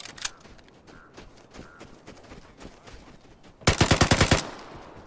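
Pistol shots in the Vigor video game come as a sparse, faint pop early on, then a loud rapid string of about ten shots near the end, over quiet background game noise.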